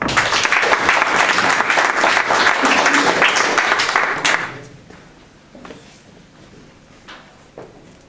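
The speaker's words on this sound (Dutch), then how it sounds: "Dames en heren, geef een applaus." Dense audience applause greets comedian Willem Haandrikman as he takes the stage, loud and sustained for about four seconds before dropping away to quiet room noise with a few stray claps.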